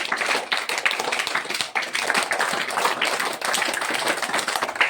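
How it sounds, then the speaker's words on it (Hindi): A school audience at a government primary school prize ceremony claps energetically for a Class 5 student receiving an award, many hands producing a loud, continuous, crackling applause. "तो जोरदार तालियां"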